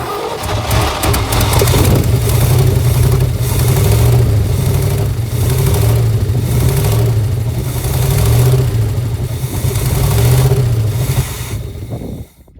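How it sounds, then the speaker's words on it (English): A loud old 1969 Chevy C10 pickup engine with little exhaust runs roughly, with a lumpy, uneven idle and throaty revs that rise and fall before cutting off at the end. "the reason why it sounds so lumpy is because it doesn't have much of an exhaust"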